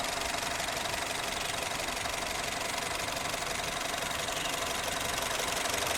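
A Honda Mobilio Prestige car engine in healthy condition idles with a steady, fairly quiet mechanical hum and a faint rapid ticking, unbroken throughout.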